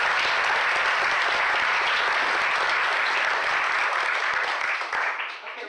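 An audience gives sustained, dense applause welcoming speaker Gwen Carr at a talk on Oregon's early Black history, fading out at the end.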